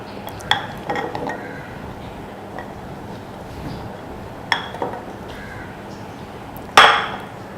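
Cut gooseberry pieces drop into a mixer grinder jar, making a few sharp clinks spaced seconds apart, the last one the loudest, over a quiet room background.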